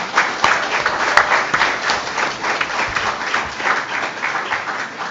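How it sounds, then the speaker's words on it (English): Audience at a city council district forum giving a round of applause, dense steady clapping from a roomful of people, loud and sustained. "But now is the time to applaud them"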